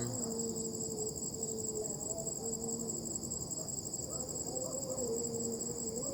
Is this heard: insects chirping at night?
yes